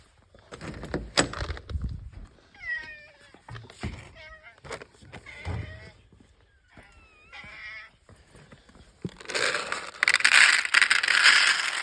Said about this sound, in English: let's go feed the barn cats